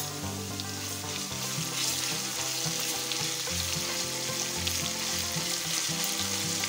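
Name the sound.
garlic and ginger paste frying in oil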